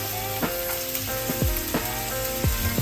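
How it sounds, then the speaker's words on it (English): Ginger, garlic and spring onion sizzling loudly in a hot wok, a steady dense crackle of frying with a few metallic clanks and scrapes of stirring on top. "let's put the ginger and garlic in. Half of the spring onion."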